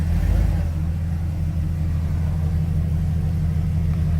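An off-road vehicle on 35-inch tires rolls forward with a steady, loud, low engine rumble, a brief louder push at the start, then an even idle-like drone.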